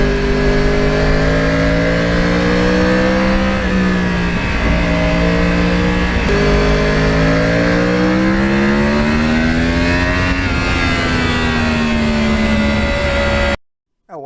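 A 2009 Yamaha R1 with a crossplane engine revs loudly and close, its pitch rising and falling through repeated throttle blips over about thirteen seconds before cutting off abruptly.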